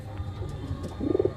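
A pair of Nazra Kaldam pigeons give a soft, low cooing, a short burst of pulsing coos rising near the end over a dull, steady background murmur.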